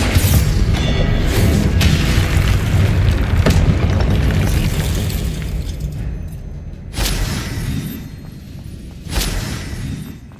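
Spell blasts and explosive impacts from combat in Hogwarts Legacy, a dense roar of booms and bursts that stays loud for six seconds, then eases with two more sharp blasts near the end.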